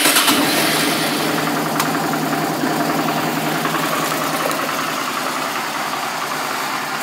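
A high-mileage 2004 Suzuki DL650 V-Strom motorcycle engine fires up loudly and settles straight into a steady, close idle, running smoothly and evenly with no voices.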